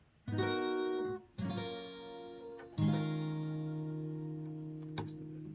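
Three strummed guitar chords ring out one after another, each left to sustain with a bright, high-pitched tone, the last one fading slowly.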